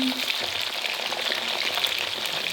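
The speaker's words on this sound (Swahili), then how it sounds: "Tunakaanga batata zetu" Potatoes frying in a pan of oil while a chicken biryani is cooked, a steady, close crackling sizzle running continuously without a break.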